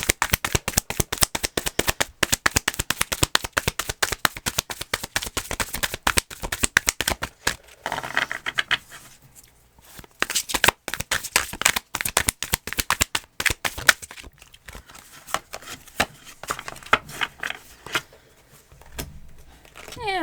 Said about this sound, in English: I feel like that wasn't quite a right shuffle.